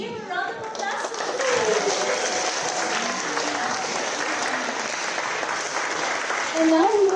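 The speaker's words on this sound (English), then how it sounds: "let's give a round of applause to" Applause from a school audience at a high school STEAM challenge presentation fills the room steadily, a dense wash of clapping with faint voices and children murmuring underneath, rising slightly at the end as a voice speaks.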